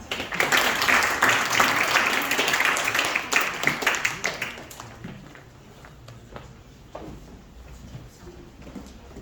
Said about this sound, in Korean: 기대하는 마음을 담아서 큰 박수로 맞이해 주세요.